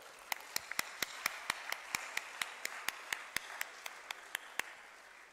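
Audience applause at a university convocation ceremony for a dental college gold medal winner, heard as a steady run of sharp, evenly spaced claps over a soft bed of crowd clapping, moderately distant and fairly quiet.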